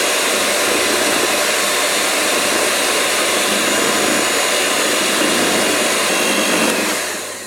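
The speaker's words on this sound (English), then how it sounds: "Let me just get that off there and we can get the mixer in there. Start it on gently." Electric stand mixer beating homemade sugar cake lace mixture in a bowl, a loud continuous whirring drone that runs steadily for several seconds before tapering off at the end, with no voices.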